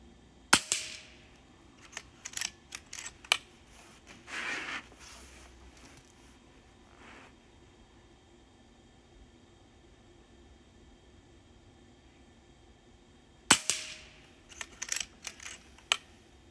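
A JTS Airacuda air rifle fired at a paper target: two sharp, close cracks about thirteen seconds apart, with lighter mechanical clicks and handling noises between them and after them, and no talk.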